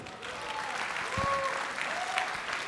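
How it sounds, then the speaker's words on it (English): A banquet audience gives a big round of applause, steady dense clapping throughout with a faint voice or tones briefly audible above it. "give a very big round of applause"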